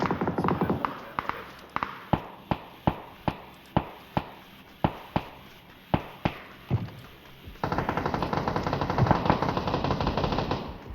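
Gunfire in PUBG on PC rings out as a regular series of sharp, loud shots about every half second, followed by a denser burst of fire and noise toward the end.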